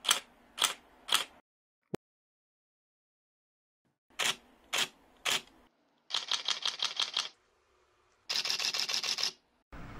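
Nikon D750 and D780 DSLR shutters firing in turn: three single clicks, a lone sharp tick, three more singles, then two rapid continuous bursts of clattering shutter releases, close and crisp against silence.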